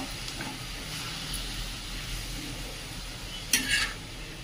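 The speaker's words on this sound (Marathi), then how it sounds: "हे सर्व साहित्य असं व्यवस्थित एकत्र करायचंय आणि 2 मिनिटात आपण हा भोपळा छान शिजू देऊया" A mixture of onion and bottle gourd is stirred in a hot pan, with a continuous low sizzle and a sharp burst of spatula scraping near the end.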